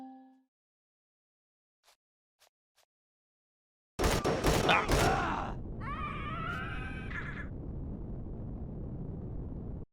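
Infected enemies open fire in Empyrion Galactic Survival: a sudden burst of loud, rapid gunshots breaks out after near silence with a few faint clicks, then fades into a sustained roar with whining tones.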